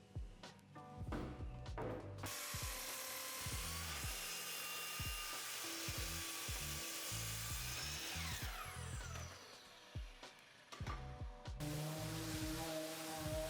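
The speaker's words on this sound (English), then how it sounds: "I trimmed the ends down so that they were smooth and clean" A power saw trims the ends of a glued-up wooden board for a shoe bench, two long loud cuts with a whining blade, separated and framed by knocks and handling thumps.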